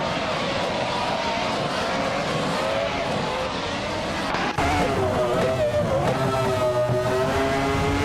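Race cars in a video game race roar at high revs with tire squeal and skidding, engine tones climbing and shifting as several cars jostle close together, loud and continuous throughout.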